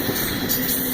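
A Brio wooden toy train rolling along its wooden track, a steady close rumble with light clattering over one continuous second, no voices.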